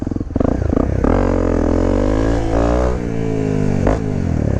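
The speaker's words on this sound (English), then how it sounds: "Little wheelie machine. Nice crisp throttle response." A 2015 Honda CRF250L dual-sport motorcycle engine revs up and down on the throttle, a loud, steady, close-up engine note with rising and falling pitch lasting several seconds.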